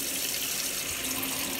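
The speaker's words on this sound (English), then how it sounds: "So I turn on my water," A sink tap runs at full flow into a basin, a steady even splashing gush throughout with no voices.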